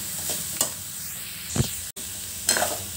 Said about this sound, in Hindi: यहाँ पे हमने सारे मसाले डालने के बाद थोड़ी देर भी इसको भून लिया है